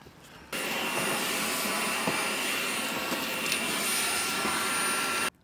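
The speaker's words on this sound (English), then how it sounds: "Right, give it a bit of a hoover." A hoover vacuum cleaner running inside a camper van, switched on with a sudden roar, a loud steady whine with occasional bumps and suction shifts, then cut off.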